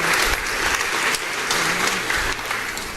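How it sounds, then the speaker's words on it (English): Applause from the audience at a grant winner celebration, steady dense clapping that holds at an even loud level for the whole stretch, with no speech over it. "So a round of applause again for everyone."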